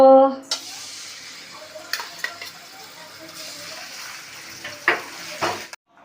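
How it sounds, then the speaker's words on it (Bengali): Steady sizzling of fish frying in hot oil in a wok, with a few clinks and stirring noises breaking through near the end. "তেলটা গরম হয়ে গেছে এবার মাছগুলোকে ভেজে নেব"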